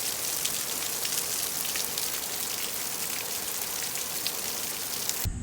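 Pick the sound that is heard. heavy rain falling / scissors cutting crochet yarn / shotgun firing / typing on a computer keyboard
heavy rain falling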